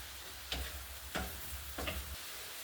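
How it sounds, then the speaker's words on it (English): A pan of vegetables sizzles steadily up close, broken by three distinct scraping stirs at even intervals. "you can hear the sizzling."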